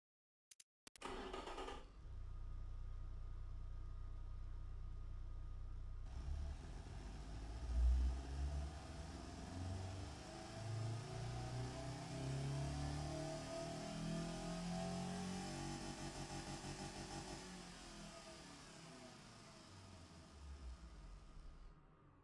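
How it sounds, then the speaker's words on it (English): A simulated 1986 Edison Luna car engine in the Automation game starts after a brief click, then runs steadily with a low rumble, revs up in a swell midway and settles back before fading out. "Let's go ahead and run our engine."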